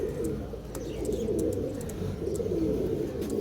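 Green Malbai pigeons coo in a steady, continuous low murmur close by, with a few faint chirps flickering above the soft cooing throughout.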